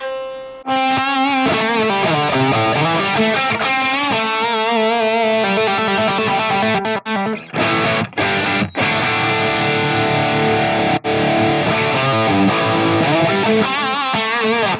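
Overdriven electric guitar through a Fractal AX8 plays a sustained lead line, with delay repeats trailing each note; loud and continuous, with a couple of brief dropouts midway.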